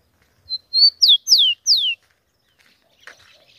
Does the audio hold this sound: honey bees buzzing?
no